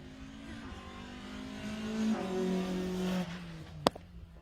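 Rally car on a junior sprint stage swinging through a handbrake turn, engine note rising and falling at mid distance, then a sharp brief crack near the end.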